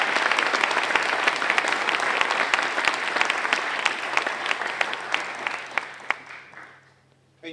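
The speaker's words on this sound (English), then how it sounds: "Let's give our prospective graduates a round of applause." An audience at a high school graduation gives the prospective graduates a round of applause, a full, steady wash of clapping with sharp individual claps standing out, thinning and tapering off toward the end.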